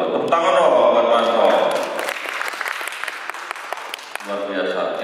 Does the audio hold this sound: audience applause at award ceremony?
yes